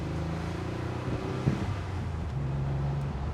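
A 34-year-old Porsche 911 Carrera 4 Cabriolet stretching its revs, the steady engine drone rising and settling with wind rush over the open top, heard from inside the car.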